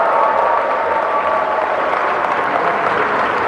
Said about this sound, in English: Can you clap the way you want them to clap for you?